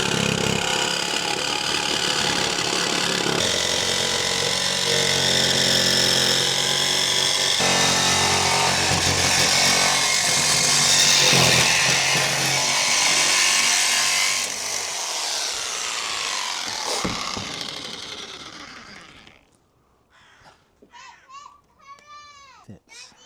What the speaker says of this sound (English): Here is where I cut through the roof.